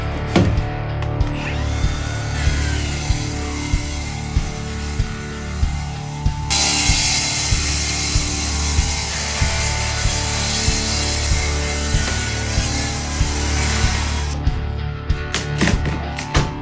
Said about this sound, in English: make a bunch of cuts just to the depth of the hardwood floor